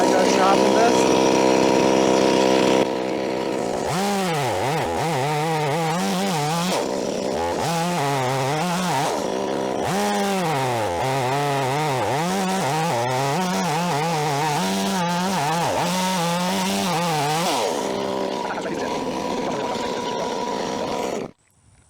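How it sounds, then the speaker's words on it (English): Chainsaw cutting a log with a dull chain, the engine droning loudly and rising and falling in pitch as it bites into the wood, running almost continuously for about twenty seconds before cutting off. "I'm going to try cut at it from the other side before I go sharpen this."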